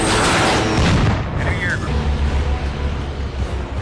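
Twin 12.7mm G6 aircraft cannons fire in a loud, booming burst. Heavy rumbling follows with a brief whine, and speech is mixed in.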